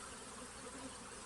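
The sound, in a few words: honey bees buzzing at a Flow Hive beehive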